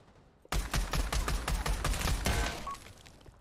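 Rapid bursts of pistol fire in a PlayStation VR 2 shooter played with a gunstock shoulder rest, sharp cracks in quick succession for about three seconds after a quiet start, loud and close, with no talking.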